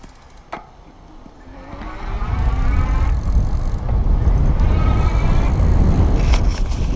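A Pedego Classic Interceptor electric bike rides along with its motor whirring as the cadence sensor kicks in, building from a quiet start into a steady rolling hum with rising whine, wind and road rumble up close.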